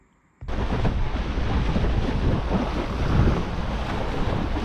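Strong wind buffets a windsurfer crossing the English Channel as the board meets a large ship's wake; a sudden rush of roaring wind and churning water starts abruptly and then holds loud and steady.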